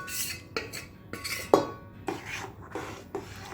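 A spoon clinks and scrapes against a metal cooking pot while stirring and mixing food, several sharp taps and scrapes spaced through a steady rhythm, close and fairly loud.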